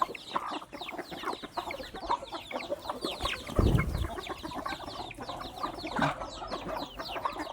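A flock of village chickens clucks and chatters busily as they are fed in the evening beside a pond, many overlapping calls up close, with a brief low rustling thump midway.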